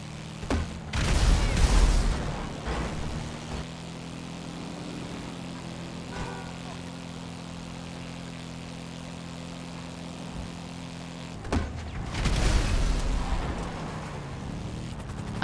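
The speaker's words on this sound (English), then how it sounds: "the second the sky above you starts throbbing with rotor blades" Helicopter rotor blades throb overhead in GTA, a steady droning hum with two louder swells of noise near the start and end, no voices.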